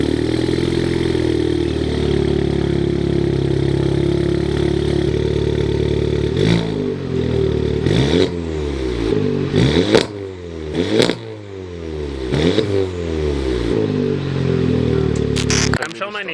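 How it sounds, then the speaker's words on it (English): A car fitted with a turbo-back exhaust starts cold and settles into a loud, steady, droning idle. It then gives a run of sharp throttle blips that rise and fall in pitch, each with a crackling, burbling exhaust note close by. "That cold start was very loud"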